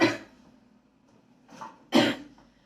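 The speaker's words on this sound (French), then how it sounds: "Je tousse encore un peu à cause du Covid" A woman still recovering from Covid coughs: one harsh cough at the start, then after a pause two more close coughs, the last the strongest, close and clear with no talking.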